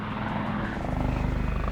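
Lynx military helicopter flying close overhead, a loud steady rotor thump with dense vibrating engine whine filling the whole short stretch.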